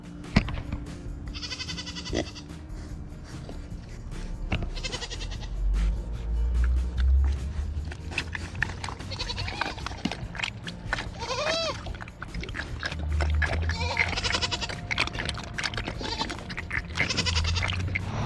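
Goats bleating repeatedly, several calls overlapping at varying distances over steady background noise, with no talk.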